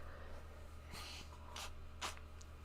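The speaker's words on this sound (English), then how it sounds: "Hold on, I'm gonna sneeze." A person sneezes and sniffs during an allergy fit: a few short, breathy bursts, the last one the strongest, heard close but fairly quiet over a steady low hum and room noise.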